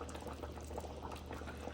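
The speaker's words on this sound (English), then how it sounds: "The pot is bubbling" A pot of oxtail simmers on a home stove, bubbling steadily with soft, continuous liquid pops at low volume, nothing else over it.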